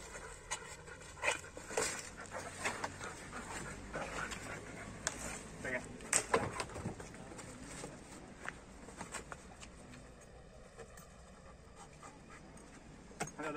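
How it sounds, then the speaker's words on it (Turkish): A narcotics detection dog pants rapidly and sniffs close by, with scattered scuffs, footsteps and handling noises, while people talk at times. "İndiriyorum köpeği çıkıyor."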